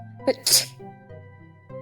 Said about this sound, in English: Everybody begins to sneeze.